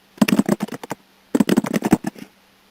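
Rapid clattering keystrokes on a computer keyboard while Java code is entered, two quick bursts of close, crisp tapping separated by a short pause.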